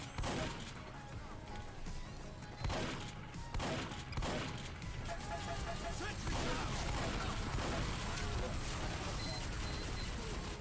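A sentry gun in the video game Team Fortress 2 fires in rapid bursts amid other gunfire and crashing combat noise. The sounds are fairly faint and continuous under game action.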